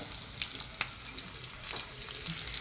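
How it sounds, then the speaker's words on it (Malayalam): Sliced small shallots sautéed in a pan for a Kerala buttermilk curry give a faint, crackly sizzle, with light scrapes and taps from a small spoon stirring them. "അപ്പോൾ നമ്മളൊരു ചെറിയ സ്പൂൺ വെച്ചത് വഴറ്റുകയാണ്"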